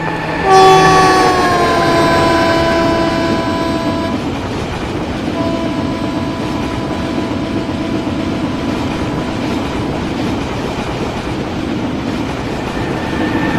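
A train passes with a long, loud horn blast at the start. The horn fades after a few seconds, and a steady, close rumble of the wheels on the rails continues. No voices are heard.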